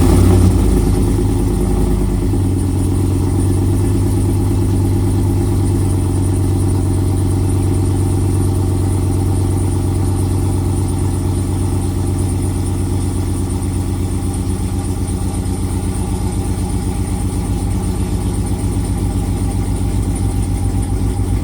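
A 2007 Suburban's 5.3L V8 idles after a cold start through its stock exhaust, resonator and intake manifold with a cold air intake, a steady loud low rumble that holds even and continuous throughout, with no talking.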